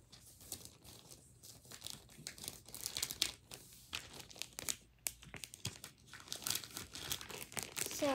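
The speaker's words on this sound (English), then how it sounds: "So this is where we get the plastic bag." A plastic bag crinkles and rustles steadily up close for several seconds, with busy, uneven crackling and no talk over it, while candy is being packed.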